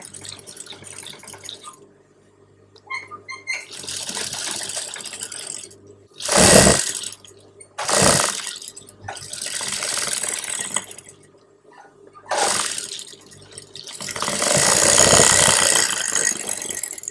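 A sewing machine stitches along the edge of a rope blouse in several bursts of whirring, mechanical running separated by short pauses, close and fairly loud, with no talk.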